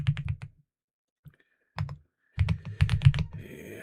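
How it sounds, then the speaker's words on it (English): Fast clicks come from a clicky computer keyboard in uneven bursts with short pauses, loud and close, and no voices. "I'm sure you can hear me tapping away, because this is one of these clicky keyboards as well"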